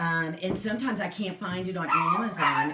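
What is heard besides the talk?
small dogs barking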